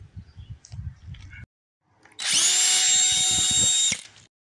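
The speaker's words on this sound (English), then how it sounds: "you're going to take your 5/16 drill bit and you're going to enlarge the factory sprayer hole" A power drill with a 5/16 bit whines loudly for about two seconds while enlarging a sprayer hole on a Polaris General, starting and stopping abruptly, after a brief stretch of quieter handling noise.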